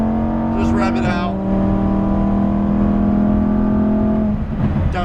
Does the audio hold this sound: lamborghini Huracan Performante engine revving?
yes